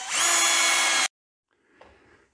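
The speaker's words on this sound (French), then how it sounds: "on perce sans percussion au départ" A power drill bores into red brick without hammer action, giving a loud, steady high whine for about a second that stops abruptly. Faint scraping and handling noises follow.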